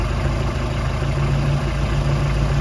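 A Mercruiser 3.0 boat engine idles steadily on its first start-up after running for several minutes, a continuous low, even hum with no changes in speed and no voices.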